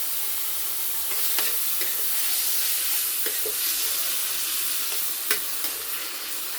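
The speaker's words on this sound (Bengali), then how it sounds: "দিয়ে আমি মশলাটাকে একটু কষিয়ে নিই" A spice masala with onion paste and tomato paste is fried and stirred in a pan, giving a constant loud sizzle with occasional scraping clicks.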